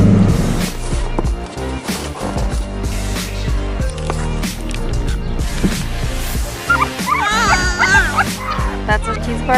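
A dog barks repeatedly amid a busy mix of music and voices, the barks loud and close while people talk over them.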